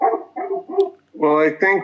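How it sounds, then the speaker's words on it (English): A dog barks a few times during a planning board meeting, the short barks mixed in with a person speaking close to the microphone. "excuse me, that's the dog."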